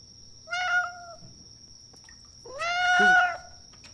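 Two distinct meows from a cat in The Bathhouse video game, one short call followed after a pause by a longer, louder, rising-then-falling meow, heard close against a faint steady tone.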